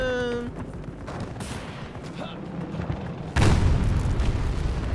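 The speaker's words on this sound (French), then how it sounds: "l'explosion." An explosion in the Battlefield video game hits as a sudden heavy boom partway through, following a short tonal sound and scattered gunfire-like cracks against a busy rumbling background.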